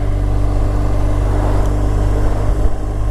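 A BMW R1200GS motorcycle engine while riding, a steady, loud, broadband drone with heavy low rumble and wind noise, continuous throughout with no talking.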